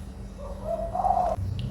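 A spotted dove (tekukur) gives a soft coo against a steady background hum, moderately near and fairly quiet.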